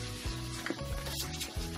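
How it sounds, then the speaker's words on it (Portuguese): Pork fat (toucinho) frying in a pan in a Minas Gerais home kitchen gives a steady, close sizzle, with brief stirring and utensil clinks over it. "eu tô fritando também um toucinho, ó"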